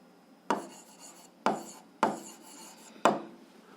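A pen or chalk writes a physics formula on a surface, four distinct scratchy strokes at roughly one-second intervals, each a sharp rasping onset that trails off, close and clear with no talk.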